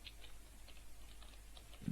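Soft, sparse keystrokes on a computer keyboard while code is typed, light taps spaced irregularly under a quiet room tone, with a duller thump at the end.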